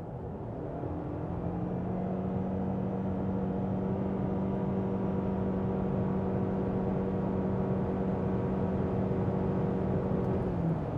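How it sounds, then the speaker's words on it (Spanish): A 2023 Toyota Camry SE Hybrid accelerates in Sport mode, a steady engine and road drone with a faint rising tone climbing gradually over about ten seconds, heard from inside the cabin with no one talking. "Voy a acelerar esto a ver qué tal acelera."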